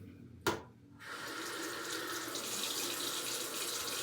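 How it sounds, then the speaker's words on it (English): Water pours steadily from a tap into a sink at a surgical handwashing station, a brief clunk as the faucet turns on and then a continuous broadband rush with no talking. "we're going to turn the water on"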